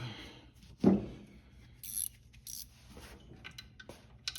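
Belt tensioner being loosened under the hood of a 1969 Buick Skylark, with a sharp ratcheting clank, a few metallic clicks and taps, and scraping, close and intermittent without talk.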